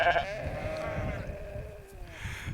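A single drawn-out bleat from a sheep in a field beside a stone wall in the West Yorkshire countryside, fairly near and loud, fading over two seconds with faint background rustle.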